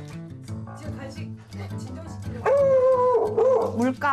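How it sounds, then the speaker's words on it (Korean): A very overweight beagle yips and then breaks into loud, drawn-out, howling barks close by, with voices audible in the room. "이 녀석, 짖음 소리도 참 우렁차요."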